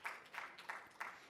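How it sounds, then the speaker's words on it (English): A brief smattering of audience claps welcoming a panelist at a school leadership summit, a few distinct faint claps spaced apart with no voices. "A big round of applause for sir,"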